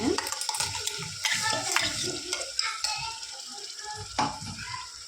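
Ground coconut and tomato masala paste sizzling and frying in oil for crab curry as it is stirred, with scraping strokes of a spoon against the pan in an irregular rhythm.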